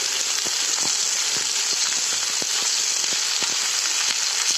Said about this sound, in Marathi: कांदे आणि बटाटे थोडी वेळ भाजू दे.